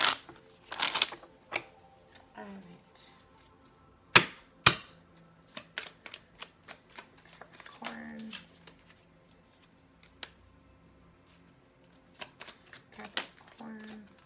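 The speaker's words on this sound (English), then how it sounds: "we'll have one more shuffle" Tarot cards being shuffled by hand in a riffling, clicking series of bursts, with a few sharp taps and a brief spoken remark over them.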